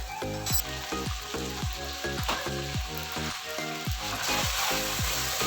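Mutton frying in a pan with coriander powder, turmeric and red chilli powder: a strong, steady sizzle throughout, under a rhythmic tonal beat that is likely background music, with no talk.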